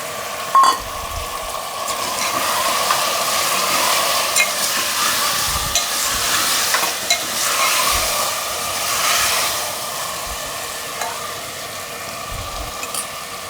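Tomatoes being added and stirred in a frying pan for a tangy khichdi of sama (barnyard millet), giving a steady moderate sizzle with scraping strokes of a spoon throughout, no talking.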